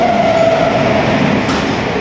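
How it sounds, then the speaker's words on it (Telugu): A Howrah to Bengaluru train passes through a station at night, a loud, close steady rumble of rolling wagons with a brief high whine of wheels and metal. "ఇప్పుడు ఈ ట్రైన్ ఒకటి హౌరా టు బెంగళూరు పాస్ అయింది."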